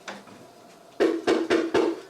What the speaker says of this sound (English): There's a knock on the front door.